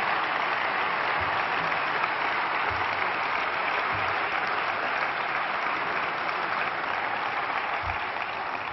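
Loud, steady audience applause fills a hall at a formal Catalan speech event, sustained evenly throughout as a dense wash of clapping with no talk over it.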